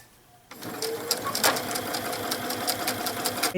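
A sewing machine stitches seam tape onto feathers, starting abruptly after a brief quiet and then running in a fast, steady mechanical whir with rhythmic ticks, close and fairly soft.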